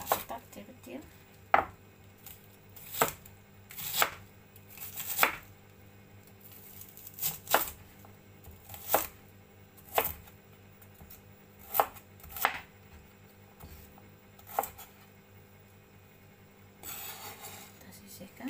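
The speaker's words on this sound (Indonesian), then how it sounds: "Kita potong bawang bombaynya juga sama. Kita potong kotak-kotak kecil-kecil." A knife chops an onion into small cubes on a cutting board, with about a dozen sharp, evenly spaced knocks over a quiet background and a soft rustle near the end.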